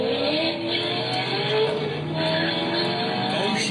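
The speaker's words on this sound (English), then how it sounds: "so he smoked the tires and he had the wheel turned" Corvette tires squealing as they are smoked with the wheel turned, a steady loud screech over engine roar that holds for several seconds without letting up, no talking.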